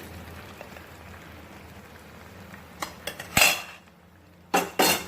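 Rice halwa with roasted cashews being mixed in a pot: quiet background, then several sharp metallic clinks and scrapes of a spoon against the pot in two clusters near the end, no talk.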